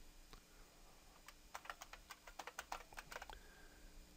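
Computer keyboard typing a root password while setting up a Kali Linux virtual machine, a quiet burst of roughly a dozen quick key clicks after a faint tap, close and alone.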